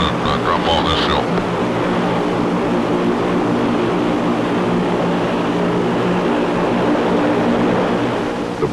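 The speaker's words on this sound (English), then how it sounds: "Engines must be kept running." Aircraft engines running in Antarctic cold on a flight to the South Pole, a loud steady drone with a brief higher whine near the start, continuous throughout.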